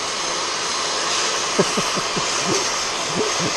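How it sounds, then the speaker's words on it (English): A Hoover vacuum cleaner runs steadily close by in a workshop during a Case IH 1255 XL tractor restoration, a loud constant whooshing drone with faint low knocks and shuffles underneath. "Not very keen on using the Hoover usually"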